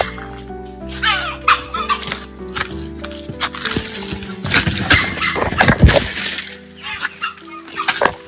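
A wild junglefowl in the forest near the Koyna Dam backwaters at Vasota gives clucking and crowing calls in short bursts, heard over background music.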